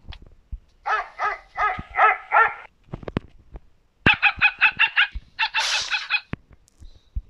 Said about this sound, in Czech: To jsou buldoci, nějaký psy?